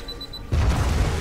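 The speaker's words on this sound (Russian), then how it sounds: "Воу, ребята, что за взрывы?" Underwater explosions in the game Deep Black: Reloaded: after a quiet start, a sudden deep boom swells into a heavy, rumbling wash that continues to the end.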